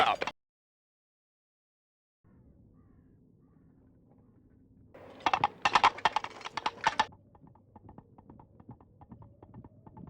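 Hollow clip-clop hoofbeats imitated by knocking objects together, a loud burst of rhythmic clatter near by, followed by softer, steady trotting knocks.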